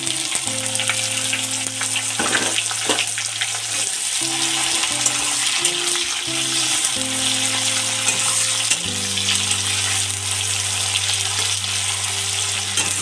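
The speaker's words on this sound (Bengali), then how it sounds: "পেঁয়াজটা যতক্ষণ না লাল হচ্ছে ততক্ষণ ভেজে নেব এইভাবে" Onions frying in hot oil in a pan with garlic, a steady loud sizzle throughout with occasional stirring scrapes, while a low background hum and tonal kitchen noise run underneath.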